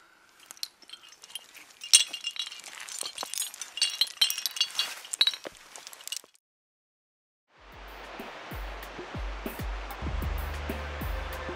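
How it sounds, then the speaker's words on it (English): Metal climbing gear clinks and rattles close by as an extender is clipped onto a cam, with scattered bright taps for several seconds, then a pause, then a steady rushing outdoor noise with a few more faint clicks. "I'm going to put an extender on"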